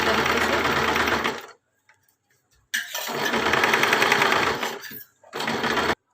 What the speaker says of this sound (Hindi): इस पर हम बड़ी वाली मशीन बखिया चलाएंगे इस तरीके से।